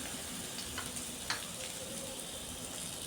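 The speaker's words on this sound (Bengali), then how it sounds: "শস্য পেস্ট আর কিশমিশটাও এর মধ্যে দিয়ে দিচ্ছি।" Mustard paste and raisins going into a pan of sizzling teasel gourd: a steady, soft hiss of frying throughout, with a few faint clicks of stirring and no voices.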